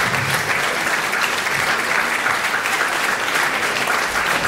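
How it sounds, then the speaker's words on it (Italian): A concert audience applauds a wind band, the Corpo Musicale di Sorisole, with steady, dense clapping that holds at full strength throughout. "applausi meritatissimi"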